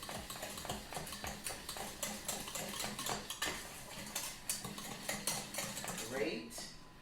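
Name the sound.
whisking in a bowl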